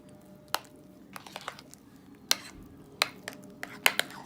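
A spoon works through a thick cheesecake mixture with Jello cheesecake gelatin, giving soft squishy scrapes broken by irregular sharp clinks against the bowl, close and quiet with no talking.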